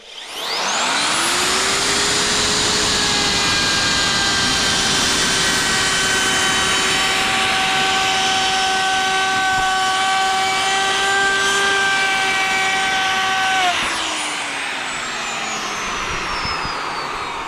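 A Vitals router mills a hard oak board at medium speed, a loud, sustained high whine with steady tonal harmonics that ramps up at the start, holds for about twelve seconds, then winds down.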